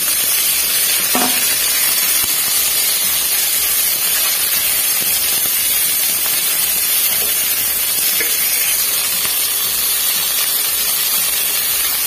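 Bitter gourd fries in hot oil tempered with nigella seeds, a constant bright sizzle and hiss that runs steadily throughout, with occasional faint clinks and stirring and no speech.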